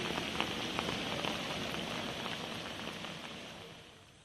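Rain falls steadily in Kerala as a dense, even patter on surfaces, a soft wash of drops with scattered sharper taps that fades slightly toward the end, with no voices.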